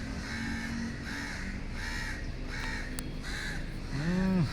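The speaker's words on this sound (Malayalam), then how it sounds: "കാക്കയ്ക്ക് ഇനി കുറച്ച് നേരം കൂടെ അവിടെ ഇരുന്ന് കരയാന്നല്ലാതെ വേറൊന്നും ചെയ്യാനില്ല" A crow caws in rhythmic, repeated calls over steady background noise, ending in a louder, nearer, drawn-out cry.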